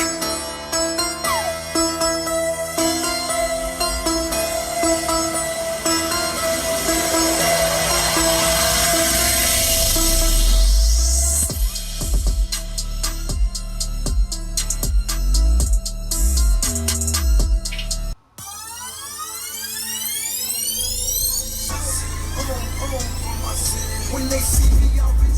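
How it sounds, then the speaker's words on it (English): Loud bass-heavy music booms from car speakers driven by a Sundown Audio four-channel amp, with deep thumping low notes and bright tones, continuous with a brief dropout near the end. "I kind of want to let y'all hear the speakers and maybe a little bit of bass"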